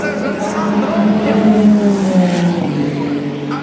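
A Ferrari race car roars past during qualifying at Le Mans, its loud engine note rising and falling as it sweeps by, with a commentator talking over it throughout.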